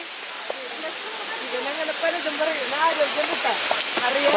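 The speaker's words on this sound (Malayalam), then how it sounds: "വെള്ളച്ചാട്ടം" The Areekkal waterfall rushes with a loud, steady broadband roar of falling water heard close by, and voices talk and call out over the continuous noise.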